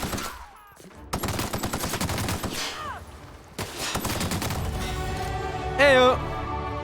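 Gunfire in The Outer Worlds, with short bursts of shots and thumps over a busy game soundscape, a louder burst near the end, and a player's voice mixed in at times.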